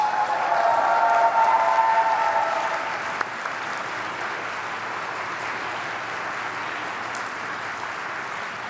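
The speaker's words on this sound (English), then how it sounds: "A little round of applause, please." Crowd applause for an award winner at the Enactus Canada National Exposition, a broad wash of clapping from a large audience, strongest at first and then settling to a steadier, slightly softer patter.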